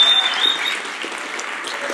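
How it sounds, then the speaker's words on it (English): Audience applause for Corporal Martinez at a college-bound safety talk, steady clapping throughout two seconds at moderate loudness. "please one more time give Corporal Martinez a round of applause"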